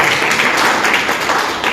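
A crowd at a direct selling business meeting applauding steadily, a dense wash of many hands clapping at once, loud and sustained throughout with no voices standing out.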